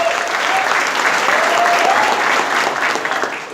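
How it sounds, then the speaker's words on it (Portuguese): Warm audience applause at a church testimony gathering, a thick continuous burst of many hands clapping close and loud, easing off slightly in the last moment. "Vamos aplaudir de novo, gente?"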